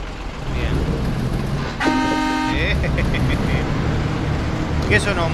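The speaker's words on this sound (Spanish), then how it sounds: "¿Y la bocina o los dientes?" A truck horn in SnowRunner sounds one sustained, bright, many-toned blast of about a second, loud and close over rumbling engine noise and low background talk.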